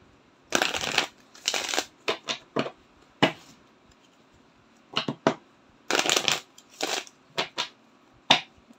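Tarot cards being shuffled and drawn, several separate riffling bursts and sharp card snaps spaced apart, close and fairly loud with quiet gaps between, no one speaking.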